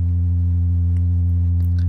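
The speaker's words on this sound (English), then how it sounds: "I used just a sine wave to create this." A synthesized bass line built from a pure sine wave, a steady low sustained tone that holds evenly for about two seconds with no talking.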